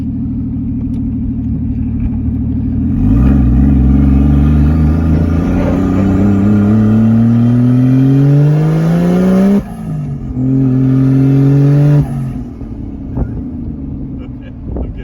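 A Lexus IS300 with a swapped-in 1JZ engine fires up on its first start. It settles into a loud idle, then revs up hard in a long climb, drops off, revs again and falls back to idle. A voice can be heard under the engine.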